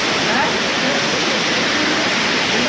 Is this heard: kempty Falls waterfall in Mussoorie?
yes